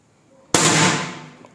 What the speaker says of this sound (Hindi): शराउड उतरा हुआ है तो इसकी काफ़ी धमाकेदार आवाज़ निकली है जी इस वक्त